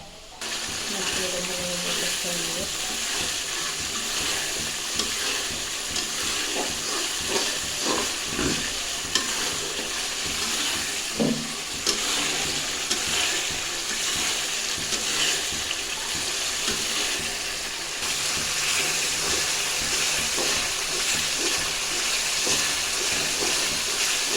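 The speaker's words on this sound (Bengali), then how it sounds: "এটা ঢেলে দেবো, বাটা মশলা।" Ground chili, cumin and ginger-garlic spice paste frying in a pan while fish curry with cauliflower and potato is cooked, giving a steady sizzle with occasional stirring scrapes and clinks, mostly alone with little talk.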